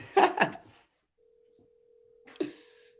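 A telephone line tone is heard while redialing after a dropped call. A steady tone sounds, interrupted by brief clicks, and short bursts of nearby speech come before and over it.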